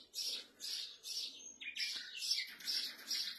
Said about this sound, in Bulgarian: птичките пеят